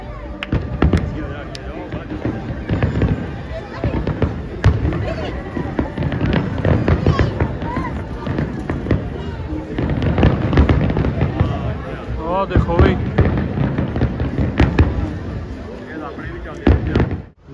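Firecrackers bursting at the Global Village fair in Dubai during Diwali: dense, rapid crackling pops and bangs run continuously through the whole stretch, mixed with crowd noise and people talking nearby.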